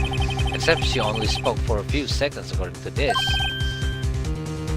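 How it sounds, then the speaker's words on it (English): A cell phone ringtone rings in the Ace Attorney video game, its repeated electronic tones chiming through dialogue with game music playing underneath. "I heard a phone ring just now."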